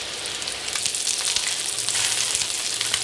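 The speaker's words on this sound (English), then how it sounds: "really what we want to do is just get a nice brown crust on the outside of our Salisbury steaks" Salisbury steaks sizzle and fry steadily in a hot pan over fairly high heat, a dense, continuous crackle close by with no talking.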